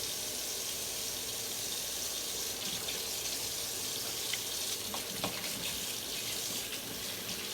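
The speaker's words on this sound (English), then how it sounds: "I'll wash my hands real quick" Water streams steadily from a kitchen tap for hand washing during ribeye roast prep, a continuous broadband rush with small splashes, close and alone with no talking.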